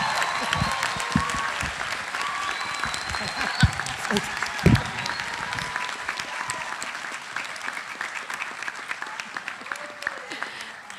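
Audience at a summer school graduation ceremony applauding after a performance, sustained dense clapping from a large crowd with a few sharp close claps and faint voices, gradually thinning toward the end.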